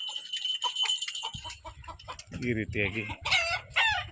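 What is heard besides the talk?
chickens clucking and rooster crowing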